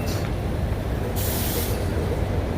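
A city bus passes on a Denver street: a continuous low rumble with a sharp burst of air hiss partway through, fairly close and with no one talking.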